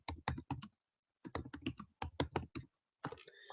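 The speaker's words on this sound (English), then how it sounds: "If I go to Google and I type in" Typing on a computer keyboard while entering a search: quick clusters of crisp, close key clicks in three short bursts separated by brief pauses, with no talking.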